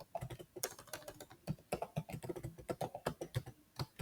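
Close, rapid keystrokes on a computer keyboard entering a MySQL password, an uneven clatter of distinct clicks with brief pauses, no talking.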